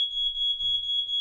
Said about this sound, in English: Fire alarm going off.